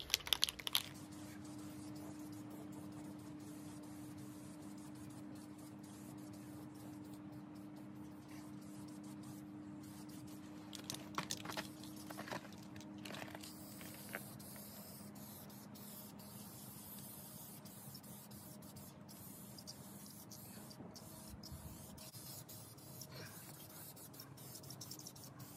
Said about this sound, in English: we're going to use same kind of paint, but now in a 12-ounce can.